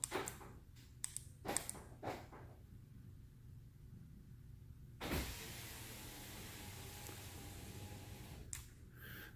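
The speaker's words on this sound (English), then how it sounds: "That's how you lower the windows without getting into your vehicle" Power windows on a Nissan Pathfinder lower by remote, a few short clicks and clunks followed by a steady electric motor whir lasting several seconds, quiet and close, ending with another soft thud.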